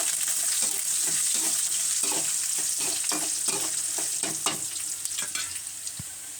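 Curry leaves and dried red chillies sauté in a hot oiled pan, a steady loud sizzle with repeated stirring scrapes throughout, nobody speaking.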